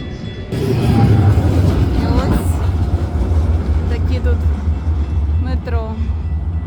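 A metro train rumbles steadily at a station in Calgary, a low continuous drone with faint squeals and clatter, while people talk nearby.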